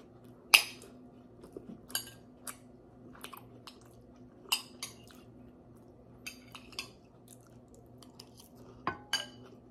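Someone eating Filipino-style pork sisig with cutlery, with close, soft chewing under sharp metal clinks of spoon and fork against a plate that come at irregular intervals over a quiet room.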